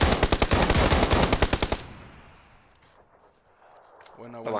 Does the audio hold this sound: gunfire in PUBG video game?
yes